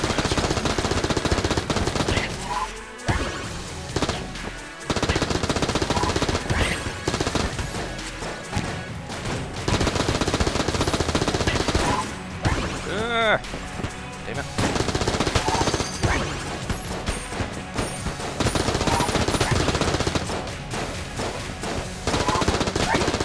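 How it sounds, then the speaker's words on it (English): Repeated bursts of gunfire from the Club weapon in Enter the Gungeon, loud and dense volleys with brief pauses between them, mixed with game effects and no talk. "The club is a bad gun, in fact, you might say. It has very slow reload time."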